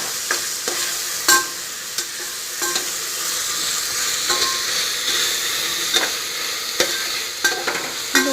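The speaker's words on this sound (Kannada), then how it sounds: "ಅರಿಶಿನ ಹಾಕ್ಕೊಂಡು ಮತ್ತೆ ಲೈಟಾಗಿ ಮಿಕ್ಸ್ ಮಾಡಿಕೊಡಿ" Curry leaves and turmeric are stirred in a hot pan for mushroom biryani, with scattered scraping strokes of the spoon over a continuous soft sizzle of frying. No one speaks.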